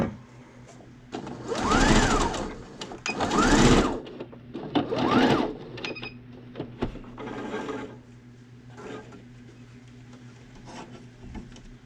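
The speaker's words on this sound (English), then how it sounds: "Now I'm going to take and sew around it, completely around it now" A sewing machine stitches around the edge of a fabric face mask in several whirring runs of a few seconds each, separated by pauses and small handling clicks, close and clear with no talking.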